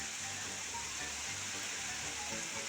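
Heavy rain pours steadily during a storm, a dense, continuous hiss of downpour with no pauses, moderately loud and heard alone without voices.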